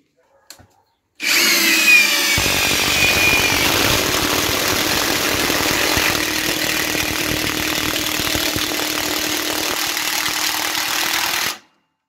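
A Parkside PDSSAP 20 Li A1 cordless impact wrench driving 8 mm screws up to 30 cm long: it starts abruptly, then gives a loud, steady motor whine with rapid hammering for about ten seconds before stopping, close up and with no speech.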